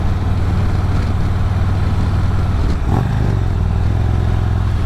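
A motorcycle fitted with a tour pack cruises along the road on a sunny ride, its engine droning loud and steady with constant rumble and wind noise throughout, no voices.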